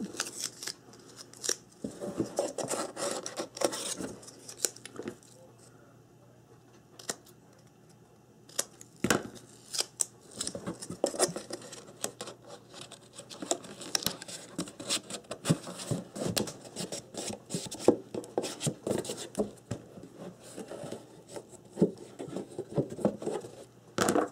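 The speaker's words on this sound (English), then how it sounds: "I'm going to take the scissors and just trim the end off a little bit." Scissors snip paper up close, cutting over and over in quick, uneven bursts with short pauses between runs of cuts.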